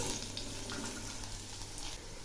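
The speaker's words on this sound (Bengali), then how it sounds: "এখন আমি দিচ্ছি বিনস, গাজর আর আলুর টুকরো, আর দিচ্ছি একটা কাঁচা লঙ্কা। এগুলি একটু ভেজে নেব" Beans, carrot and potato pieces with a green chilli frying in oil, giving a steady, close hiss of sizzling throughout with no speech.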